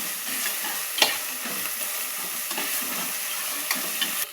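Onions with ginger garlic paste sauté in a pan, giving a steady close sizzle with soft stirring scrapes and a few sharper clicks from the spoon, with no talking.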